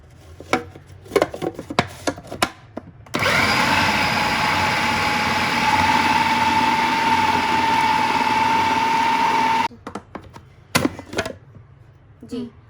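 A kitchen blender whirs loudly and steadily for about six seconds, grinding ginger, garlic and small green chillies, framed by clattering knocks and handling sounds before and after.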